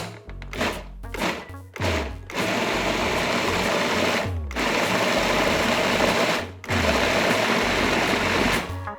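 A food processor whirs through an eggplant filling with cumin, dried oregano and tomato paste, running in several short loud pulses before settling into a steady, close, continuous blend with two brief stops.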